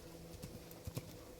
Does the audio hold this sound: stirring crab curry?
no